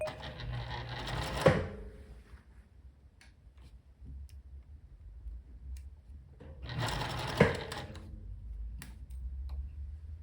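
A domestic sewing machine stitches a shirt collar stand in two short close runs of rapid mechanical whirring, separated by a quiet pause filled with faint ticks and low hum.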